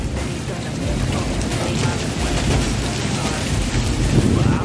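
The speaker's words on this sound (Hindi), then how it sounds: "भाई बहुत तेज आंधी चल रही है बाहर," Heavy rain pours down at night with a deep, rolling rumble of thunder beneath it and strong wind, a dense continuous roar throughout.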